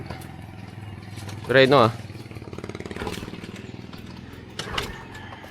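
A motorcycle is being kickstarted, with a few short, rough engine bursts that sputter and fade between attempts, while people talk nearby throughout.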